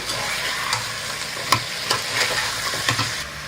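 Jackfruit seed curry being stirred in a pan, with close scraping strokes about every half second over a constant frying sizzle and soft hiss.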